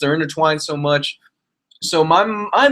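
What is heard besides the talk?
No everyday noise stands out behind the speech.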